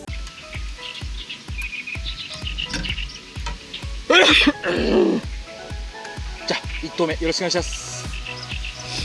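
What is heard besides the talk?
birds singing in grassy fishing spot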